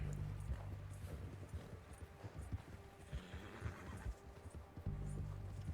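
A horse in Red Dead Redemption 2 whinnies while its hooves clip-clop in an uneven rhythm, fairly close, over a soft low hum.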